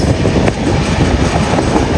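A train runs past at Khairatabad station in Hyderabad with loud, close, continuous rumble and rhythmic wheel clatter on the rails, and no voices.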